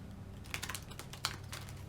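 Faint, crisp riffling bursts of tarot cards being shuffled, a few quick flurries spaced across a quiet background.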